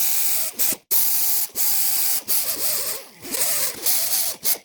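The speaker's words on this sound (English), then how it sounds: "you don't want to grind in one place too long" A grinder working rust off the rear brake rotor of a 2018 Lexus ES 350, a harsh, close whirring grind in repeated passes broken by brief pauses, with pitch wavering as the tool moves across the metal.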